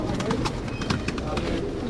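A pigeon coos nearby in a continuous low throaty murmur, with a voice present over it.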